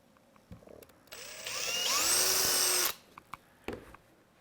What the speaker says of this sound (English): I'm going to drill the last 2 holes here